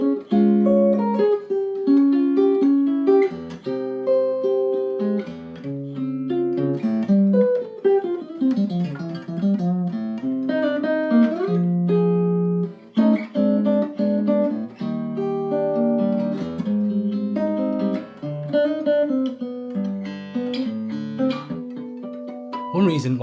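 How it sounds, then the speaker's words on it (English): Jazz guitar playing a chord melody of a standard, sustained chords under a singing top line at a relaxed, unhurried pace, clear and close with no talk. "Let's have a listen to how this can work as a chord melody."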